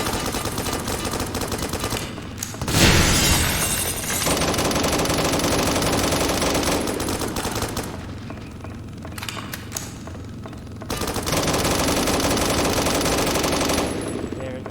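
Sustained helicopter machine gun fire in the BRM 5 video game, long loud continuous bursts of rapid shots broken by short pauses, close and dense, with no talking over it.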